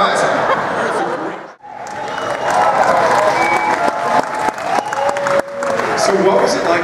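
An audience watching the Star Trek Picard trailer bursts into loud, sustained applause and cheering. A brief dip comes near the start, then the clapping and crowd noise swell and keep going with scattered whoops.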